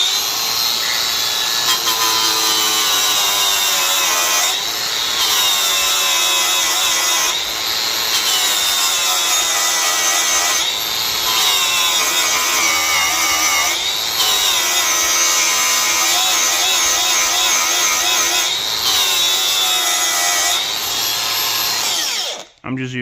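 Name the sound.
grinding a weld with a flap disc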